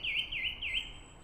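A song thrush sings outdoors, repeating a short, clear, whistled phrase three times in quick succession, fairly faint over a low background rumble.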